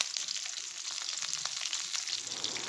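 Chopped garlic fries with onions in a pan for a chilli pickle, producing a close, steady crackling sizzle throughout, with faint stirring scrapes.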